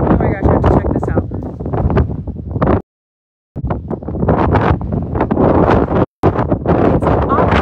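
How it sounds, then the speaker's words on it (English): Strong outdoor wind buffets the microphone in loud, rough gusts at a monument site while a person speaks over it, with two brief dropouts to near silence. "I don't know if it's too windy, if you can hear me"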